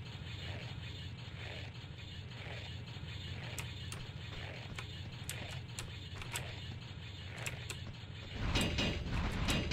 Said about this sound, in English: As you might have heard, there are some clang clang doors.